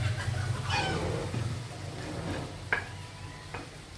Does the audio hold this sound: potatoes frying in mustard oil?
yes